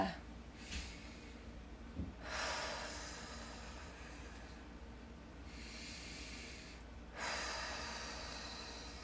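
Slow breathing during a guided breathing exercise: a few quiet, airy breaths drawn and released several seconds apart, soft and near, with no speech.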